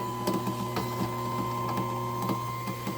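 A Genie 1035 garage door opener runs steadily, its motor giving a constant mechanical whir with a faint rhythmic clicking from the drive, close by and alone, fairly quiet overall.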